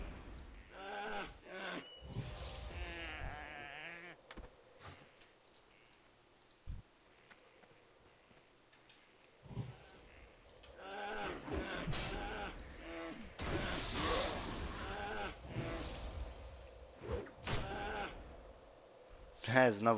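Rams bleat in the World of Warcraft video game, short wavering cries popping up among game effects and bursts of combat noise, mixed with a player speaking over the action.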